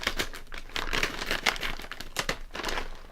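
A Honey Tong Tong or Honey Butter Chips snack bag is cut open with scissors, giving close, loud crinkling with repeated sharp rustling bursts and crackles, and no speech.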